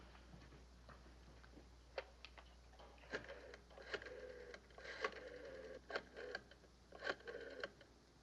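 A telephone is dialed at close range in a quiet room, with a series of short, sharp mechanical clicks and ticks spaced irregularly over several seconds and no talk.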